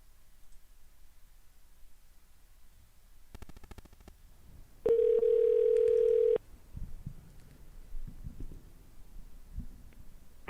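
A phone call being placed to a T-Mobile store in Las Vegas: a short burst of clicks, then a steady electronic telephone tone holding for about a second and a half before cutting off, followed by faint line noise.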